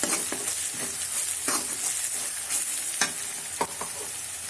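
Ginger garlic paste and turmeric frying in a pan, a steady sizzle broken by a series of sharp scraping strokes as a spoon stirs it, close and loud with no voices.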